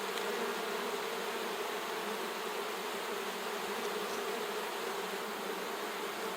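Honey bees in a strong hive hum in a dense, continuous buzz, close and steady throughout with no talking.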